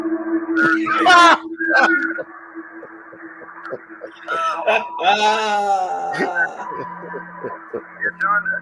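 Screaming and wailing voices from a hotel room, rising and falling cries in two main bursts over a steady hum, fairly close and loud.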